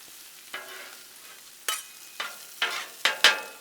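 Vegetables sizzle on a Blackstone griddle as a spatula stirs them, a low steady hiss broken by about six sharp scraping strokes that come closer together toward the end.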